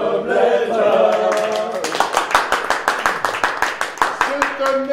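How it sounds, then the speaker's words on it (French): Theatre applause during a stage play, rhythmic group clapping that builds into a steady, loud beat as voices sing and speak over it. "Ce tonnerre d'applaudissements est pour vous"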